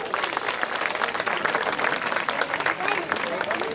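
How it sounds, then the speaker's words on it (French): Spectators at an eagle and bird of prey show clap together in a brisk, steady burst, with talk and crowd murmur mixed in under the applause. "je crois que vous pouvez lui faire un petit applaudissement"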